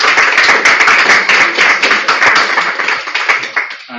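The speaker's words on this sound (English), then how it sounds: "I think they deserve an applause." Participants at a cross-regional networking round table get a round of applause, with many hands clapping loud and close in a dense, even patter that begins to thin out near the end.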